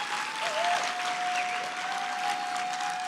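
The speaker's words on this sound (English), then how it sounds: "Let's welcome the minister with a good round of applause" Conference audience applauding in a hall, dense sustained clapping from many hands throughout, with a faint tonal hum beneath.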